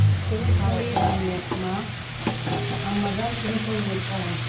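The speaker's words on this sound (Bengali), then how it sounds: "জোরে হিটে আমি একদম ফুল হিটে ভেজে নেব। এই যে বাদাম আর পেঁয়াজ বাটা দিয়ে দিলাম।" A ground nut and onion paste frying on full heat with chicken in a pan, giving a steady close sizzle broken by a few short scraping stirs.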